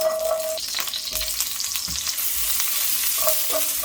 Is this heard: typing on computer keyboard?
no